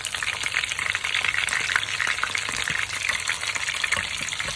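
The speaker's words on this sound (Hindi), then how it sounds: "ये देखिए माशाल्लाह बड़े अच्छे फ्राई हो रहे हैं।" Chicken chapli kebabs sizzle steadily in a griller pan over low to medium heat, a continuous close frying crackle with no one speaking.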